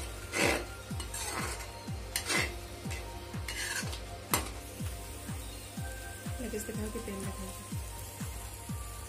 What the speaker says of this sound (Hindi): इन मसालों को मैं मीडियम गैस पर पकाऊंगी।